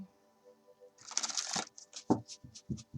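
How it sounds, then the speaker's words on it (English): A deck of cards being shuffled by hand, a dense burst of riffling flutter followed by a few distinct soft card taps and slaps, close and moderately loud, with no talking. "let's shuffle"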